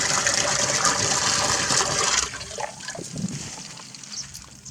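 Water rushes out of a gravity-fed pump tank through an opened valve, a loud gushing flow that drops to a quieter trickle and gurgle partway through.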